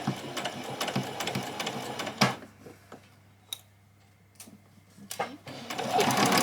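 A home sewing machine stitches fabric for a child's dress, running in bursts with short pauses, its rapid needle ticking close and clear while a person talks over it.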